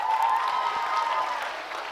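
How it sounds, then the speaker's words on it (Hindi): A quiz audience at Jaipur's JKK applauds a participant called up on stage, a steady wash of clapping from many hands that holds level and then eases slightly. "तालियां बजाइए इनके लिए।"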